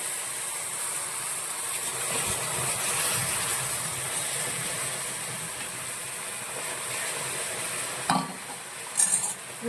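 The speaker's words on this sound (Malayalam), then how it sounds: "പിന്നെ നമ്മൾ ഇതിലേക്ക് കലക്കി വെച്ചിരിക്കുന്ന മിൽക്ക് മെയ്ഡും കൂടി ചേർത്ത് നന്നായിട്ട് നമ്മൾ ഇളക്കുവാണ്" Grated coconut and condensed milk are stirred together in a pan for a caramelised coconut ladoo, giving a continuous close scraping and stirring with a soft sizzle, ending in a few sharper clinks of the spoon.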